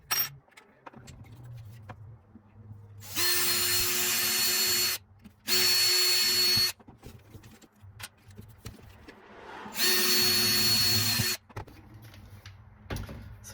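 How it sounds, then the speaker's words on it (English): Power drill boring a hole through a metal tripod leg, three sustained whining runs separated by pauses with small handling clatter between, close and loud, no speech. "once I drill that hole in there, it will let this drop inside and this will fit"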